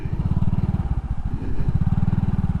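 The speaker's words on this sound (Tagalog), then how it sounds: "ngayon hanggang umandar yung motor" A motorcycle engine runs during a turn, its low, rapid putter pulsing steadily and fairly close, dipping briefly in the middle before settling back to an even throb.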